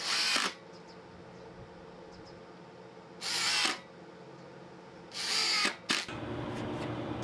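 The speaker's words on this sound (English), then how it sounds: "that's a very fast driver, and it makes putting screws in very easy" A Black+Decker Matrix cordless impact driver drives screws in three loud, close whirring bursts of about half a second each, separated by quiet gaps, with a short final blip.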